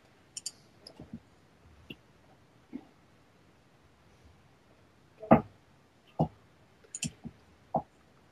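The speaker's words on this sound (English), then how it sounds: "I'm typing feverishly into the live stream chat." Typing into a live stream chat on a computer keyboard: scattered, sharp key clicks in irregular bursts, close and clear with no talking.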